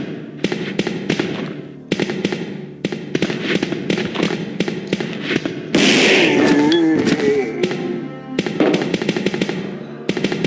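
Shotgun fitted with custom parts firing in Resident Evil 2, a sequence of sharp, evenly spaced blasts with heavy low thumps, one longer burst of ringing noise midway, loud and close.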